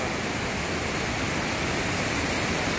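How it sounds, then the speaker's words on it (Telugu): Hogenakkal Falls seen from a viewpoint, a dense, steady roar of heavy falling water that fills the scene evenly without pause, with no voices. "ఇది వగనేకల్ ఫాల్స్ దగ్గర ఈ వ్యూ పాయింట్ ఇది."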